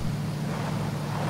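A vehicle in PUBG drives along with a steady, droning engine hum, constant and fairly close for about a second with no break.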